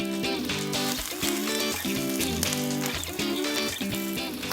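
Cooked rice goes into a hot wok of frying nasi goreng and spices, giving a steady sizzle that hisses throughout under rhythmic background music.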